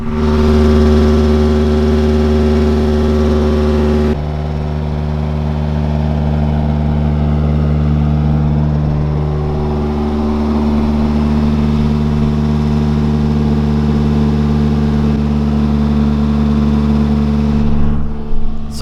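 Toyota AE86 running with an exhaust leak, a loud, close, droning engine note that steadies, then shifts pitch slightly as revs change, continuing without voices.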